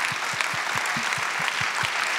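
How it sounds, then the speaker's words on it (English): Conference audience at an opening plenary session applauding, a dense continuous patter of clapping with a faint low thumping pulse underneath, fairly loud and steady. "So should we give a round of applause to Klaus, I think?"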